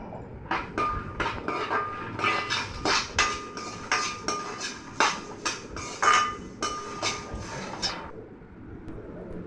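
Whole spices, cloves, cardamom, shahi jeera, cinnamon and sesame seeds dry-roast in a pan, giving repeated sharp metallic clinks and scrapes of a spoon against the pan in an irregular rhythm at close range, then quieting.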